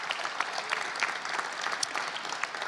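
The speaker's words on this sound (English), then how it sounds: "Please give them a nice round of applause" A large arena crowd applauds steadily at an NBA All-Star announcement event in Phoenix, a dense, even wash of many hands clapping for nearly three seconds with no clear voices.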